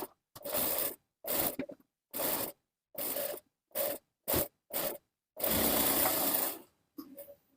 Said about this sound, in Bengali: এখন আমরা এটার উপর একটা চাপ সিলি দিয়ে দিব।